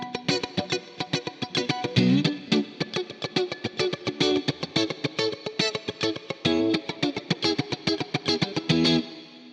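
A heavily distorted electric guitar, a Yamaha Pacifica, plays a fast, rhythmic riff of chugging palm-muted chords and ringing notes, loud and continuous with no talking.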